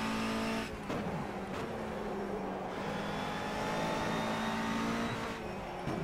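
A race car engine in rFactor 2 revs and pulls through gears in a sustained, loud drone, with brief lifts and downshifts breaking the tone, and tire noise underneath.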